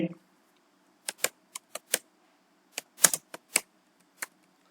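Typing on a computer keyboard while entering an address in LibreOffice Writer: scattered, crisp key clicks in uneven bursts, close and clear, with a brief bit of voice at the start.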